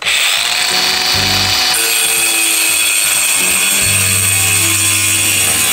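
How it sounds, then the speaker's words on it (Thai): An angle grinder with a cutting disc slices through SmartBoard fiber cement board while building a Japanese ryokan-style walkway, giving a loud, steady high whine with a lower hum that rises and falls as the cut proceeds. "เวลาเราใส่ลูกหมูนะครับตัดแผ่นสมาร์ทบอร์ดนะครับหรือแผ่นกระเบื้องก็ตามนะ"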